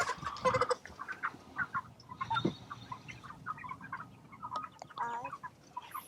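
A smaller hen held up at a pasture chicken tractor on a farm clucks in short bursts, close and fairly loud, with other hens clucking faintly around her.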